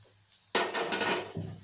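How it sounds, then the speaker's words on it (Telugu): Cumin seeds hit a hot pan for idli kaaram with a sudden loud rattling scatter, then a short sizzling, clattering spell before a second smaller clink near the end. "ఇది ఇలా ఉండగా జీలకర్ర కూడా వేసేసుకుందామండి."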